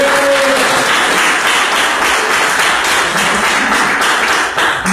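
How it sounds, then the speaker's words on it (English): A dense, loud wash of audience applause fills an awards ceremony hall, continuous many-handed clapping that holds steady from start to finish with no speech over it. "I want you guys to give yourselves a round of applause."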